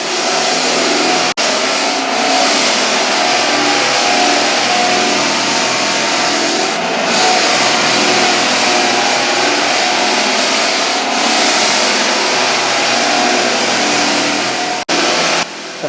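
A smaller edging sander grinds across a hardwood floor close to the woodwork, a loud, continuous motor roar with brief dips where it lifts off.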